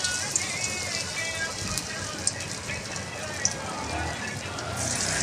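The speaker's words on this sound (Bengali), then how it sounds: "এরপর সয়াবিনগুলো তেলের মধ্যে ছেড়ে দিচ্ছি।" Marinated soybean chunks dropped into hot oil sizzle steadily, a dense crackling hiss with occasional pops, close by and continuous.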